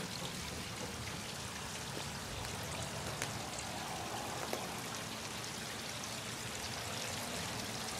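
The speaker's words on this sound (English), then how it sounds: "the water finds its way around those three big rocks. And now it's headed under the log." Water from a backyard waterfall rushes and trickles around large rocks and under a log, a steady, close, full-bodied splashing flow with no voices over it.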